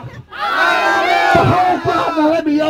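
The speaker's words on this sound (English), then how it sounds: "Can you hear you say hallelujah for this section of the crowd?" A large crowd at an outdoor gathering in Bangalore shouts hallelujah together, a loud sustained roar of many voices that swells, dips briefly and rises again.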